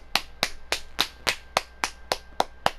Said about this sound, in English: Golf clap.